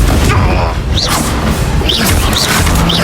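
A Confringo blasting spell bursts in Hogwarts Legacy, loud booming impacts with whooshing swishes layered over a dense game soundscape, with speech partly present.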